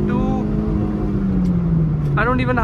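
Honda City third-generation car with its engine running steadily, a low droning tone rising near the end, heard under continuous talk.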